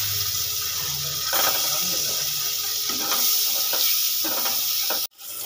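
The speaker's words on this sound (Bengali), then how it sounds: "এই ডিমগুলো দিয়ে দেব, দিয়ে হালকা ভেজে নেব।" Boiled eggs fry in a little melted butter in a pan over a medium gas flame, a steady close sizzle broken by stirring and scraping, then a sudden brief drop near the end before the sizzle returns.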